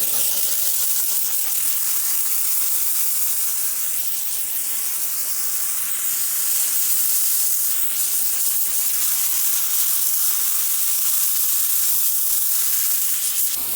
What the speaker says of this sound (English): have I mentioned to you guys how much I love a steamer for floor mats?